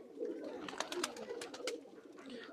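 Old-bloodline domestic pigeons from Khulna coo in a series of soft, throaty, rising-and-falling calls, close by, with no talk over them.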